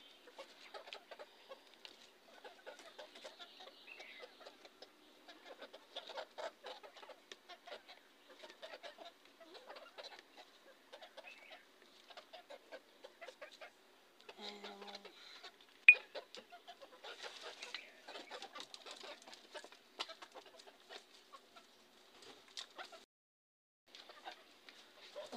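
Free-range village chickens being let out for feeding cluck softly and sporadically over about twenty-five seconds, faint and scattered, with quiet rustling between calls.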